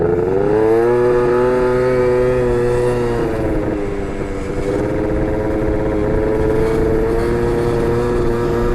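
Motorcycle engine hums steadily while riding on an open road after being rebuilt, its harmonic drone loud and close with a slight dip in pitch midway as the throttle eases, no talking.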